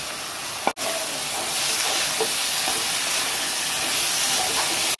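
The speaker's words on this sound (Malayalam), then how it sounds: "അപ്പൊ നമുക്ക് ഇതിലേക്ക് സവാള ഇട്ട് കൊടുക്കാം. പെട്ടെന്നൊന്ന് വഴണ്ടു വരാൻ വേണ്ടിയിട്ട് നമുക്ക് ഉപ്പും കൂടി ചേർത്ത് കൊടുക്കാം." Sliced onions with salt sizzle steadily in a hot pan for rabbit biryani, a continuous close frying hiss with a sharp clack near the start and another at the very end.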